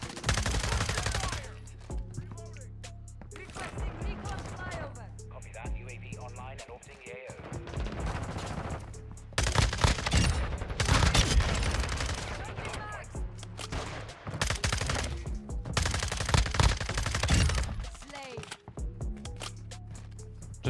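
FSS Hurricane submachine gun in Modern Warfare firing in dense, rapid bursts, loud and close, with scattered distant gunfire and footsteps between volleys and a player talking over parts of it.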